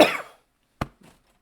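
A person coughs, one harsh close cough followed by a short sharp second cough and a faint trailing throat sound, in otherwise quiet surroundings.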